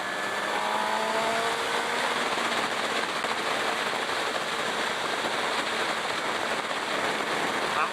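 A 2017 Suzuki GSX-R 750 sport motorcycle cruises at steady speed around 6,500 RPM, its engine note blended into a constant, loud rush of wind across the whole stretch.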